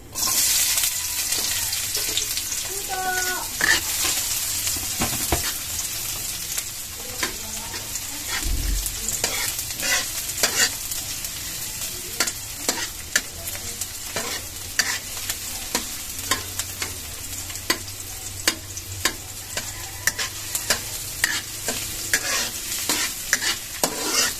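Onion and garlic sauté in oil with a constant crackling sizzle, and busy spatula scrapes and clacks tap rapidly and unevenly through the whole stretch.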